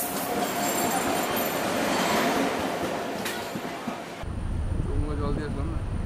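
Kanchankanya Express passenger train running from Hasimara toward Siliguri, a steady loud rumble of wheels and carriage noise throughout, with a brief shift in tone near the end as the ride continues.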